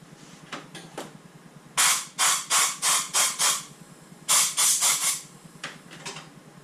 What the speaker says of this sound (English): Like there's still some dust in them, we'll blow them out.